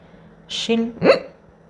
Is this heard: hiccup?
yes